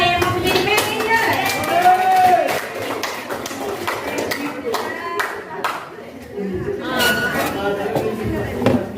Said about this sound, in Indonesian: Tepuk tangan untuk kita semua yang mau menjadi manajer.